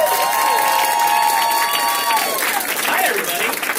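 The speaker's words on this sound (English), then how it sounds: "can we give a big round of applause for Mr." Audience applause and cheering greet guest Sean Hare at the Mysticon 2020 convention opening, a steady loud wash of clapping from a crowd with whoops and voices mixed in throughout.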